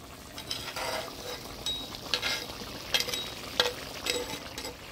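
Fried puti fish are stirred into kochur loti in a pan in a village kitchen, giving soft sizzling under repeated scraping strokes of a spatula, close and fairly quiet.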